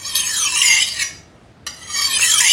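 A knife blade rasps across a 6000-grit natural whetstone in two long strokes separated by a brief pause, a close, hissing scrape with no talking.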